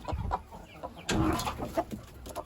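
Hens cluck in a chicken coop in scattered, close, soft bursts, with a few faint rustles between the calls.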